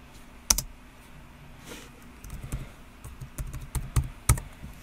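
Passcode keys tapped on the keyboard of an HP Pavilion gaming laptop, a sparse run of soft, close clicks with a couple of sharper taps standing out, no talking.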